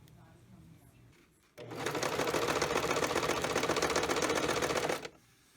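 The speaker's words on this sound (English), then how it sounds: "I'm going to take this trim to my sewing machine" A sewing machine stitches decorative trim onto the edges of handmade junk journal pages, running in one steady, loud burst of about three and a half seconds after a quiet start, then stopping.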